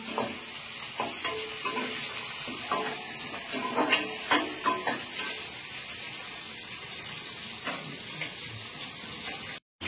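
A pan of fish curry bubbles and sizzles steadily at a close distance, with soft occasional stirring clinks over a constant hissing simmer.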